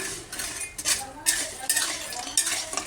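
A utensil scrapes and clinks against a heavy-bottomed kadai while halwa is stirred, giving several quiet, close metallic strokes in an uneven rhythm over a faint sizzle.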